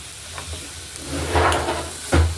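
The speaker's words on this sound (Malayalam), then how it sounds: "ഉപ്പിട്ട് കൊടുത്തിട്ട് നമുക്ക് ഒന്ന് വഴറ്റി കൊടുക്കാം നന്നായിട്ട്" Food sautéed with salt in a pan sizzles and hisses close up, with stirring scrapes swelling in a couple of louder bursts.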